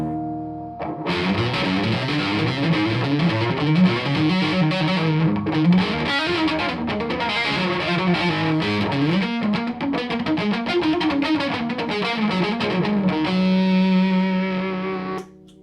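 Driven electric guitar plays a continuous riff through a Caline CP-15 pedal, boost stacked over distortion, gritty and loud, steady throughout before ending on a held chord.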